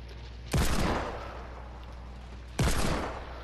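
Two loud, sharp gunshots from a video game, about two seconds apart, each followed by a short decaying echo over a quiet background.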